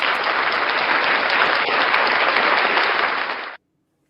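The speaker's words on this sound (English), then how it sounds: "Round of applause for Santa Claus and the VFW." An audience applauds Santa Claus and the VFW at a local holiday event: a steady, loud wash of clapping that holds evenly and then cuts off abruptly.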